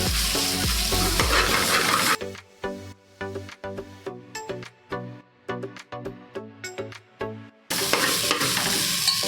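Garlic in a pan opens with a loud sizzle, then gives way to a run of sharp metallic clinks and scrapes from stirring before the frying hiss returns; no one speaks.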